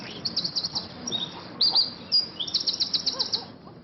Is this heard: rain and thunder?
no